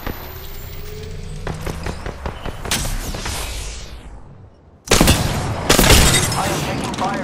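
Enemy gunfire in a video game pops in scattered bursts, then louder volleys after a brief near-silent gap, with a voice talking over the action.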